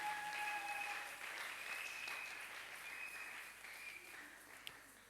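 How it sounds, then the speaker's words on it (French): A church congregation applauds in a steady, dense wash of clapping that holds for several seconds, moderately loud and slightly distant, with faint tonal bits ringing over it. "Est-ce qu'on peut acclamer pour le Seigneur?"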